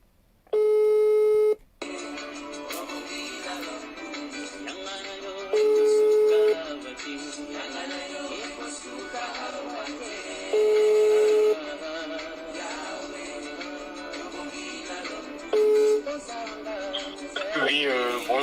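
Repeated ringback tones of an unanswered phone call placed while calling back, with loud beeping pulses returning every few seconds over a continuous music-like background.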